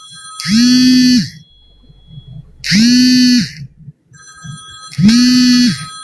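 A telephone rings in three loud, evenly spaced electronic bursts, each about a second long with short quiet gaps between, close and alone with no talking.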